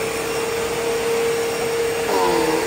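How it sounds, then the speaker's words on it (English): A Bissell Power Force bagless vacuum cleaner runs steadily with a loud, close motor whine, its tone shifting slightly near the end; it may need a new belt and filter. "today we have a Bissell Power Force bagless vacuum"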